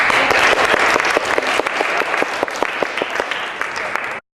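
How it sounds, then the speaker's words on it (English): Audience applause at a Veritas Night talk, a dense burst of many hands clapping loudly and steadily for about four seconds before cutting off abruptly. "let's give Miss McFadden a round of applause"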